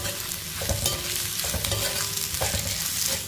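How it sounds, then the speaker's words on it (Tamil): Spices sautéed in a pan with asafoetida powder and pink salt: a soft, steady sizzle with repeated scraping and stirring strokes of a spoon against the pan, close and quiet, with no voices. "இது லைட்டாக ஒரு வதக்கிடுவோம்"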